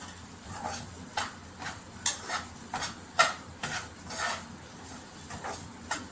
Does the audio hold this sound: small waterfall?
no